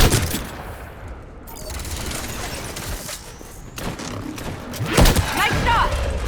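Gunfire in a video game battle near a temple: rapid, crackling bursts of shots over a constant rumbling background, with a louder flurry toward the end.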